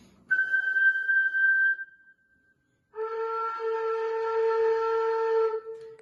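A ney, an end-blown reed flute held at an angle, sounds a steady breathy tone that fades, then after a short pause a fuller, louder sustained note with rich overtones rings out, clear and close.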